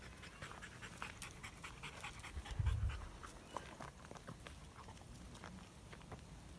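A dog pants rapidly and steadily close by while being brushed, with soft brushing and rustling sounds mixed in at low volume.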